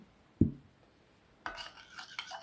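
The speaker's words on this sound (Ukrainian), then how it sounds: "І перемішую цю суміш" A spoon stirs teriyaki sauce into a marinade mixture for baked mackerel: one dull knock against the bowl, a pause, then about a second of close scraping and clinking stirring, with no talking.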